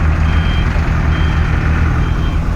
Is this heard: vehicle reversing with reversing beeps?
yes